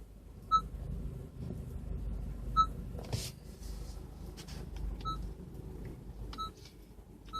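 2014 Honda Civic Si dashboard chiming during settings changes, a few short, faint electronic beeps spaced several seconds apart over quiet cabin background.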